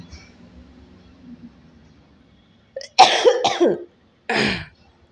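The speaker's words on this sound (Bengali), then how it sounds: "কাশি হয়ে গেছে আমার" A woman coughing up close, a few harsh coughs in quick succession followed by one more after a short pause, against faint low background hum.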